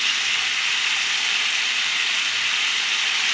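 Ginger paste sizzles in hot oil for a papaya curry, giving a loud, continuous hissing fry that holds steady without pause.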